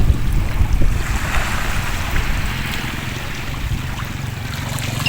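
Steady wash of sea waves at a boat landing in Pio Duran, with low rumbling surf and wind buffeting the microphone, continuous and fairly loud, no voices.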